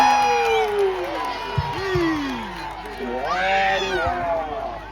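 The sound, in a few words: crowd clapping and cheering at wrestling match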